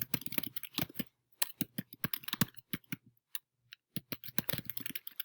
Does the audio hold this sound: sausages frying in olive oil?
no